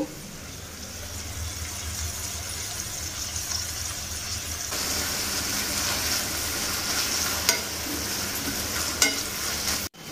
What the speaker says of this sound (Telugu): పుదీనా కాస్త దగ్గర పడేంత వరకు ఫ్రై చేసుకోవాలి.